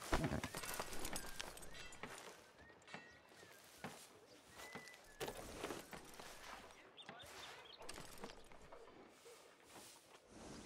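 Faint horse hooves clip-clop at a walking pace in the video game Red Dead Redemption, uneven footfalls with scattered clatter and a quiet background.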